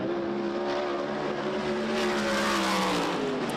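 A USAC Silver Crown race car laps the Springfield Mile dirt oval, its engine a sustained, droning roar with steady harmonic whine, holding constant and fairly loud with no voices over it.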